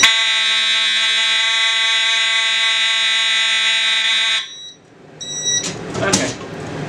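Fire alarm devices sounding during an alarm system test: a loud, steady electronic tone holds for about four seconds, then cuts off, followed by brief clicks and handling noises nearby.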